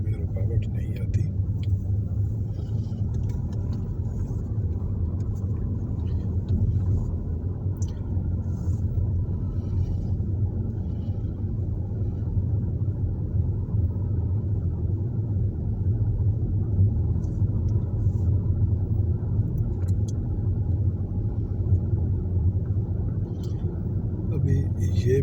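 Steady low engine rumble and road noise of a car cruising along a road on Palm Jumeirah, Dubai, in light early-morning traffic, continuous and even throughout, with a voice talking over it.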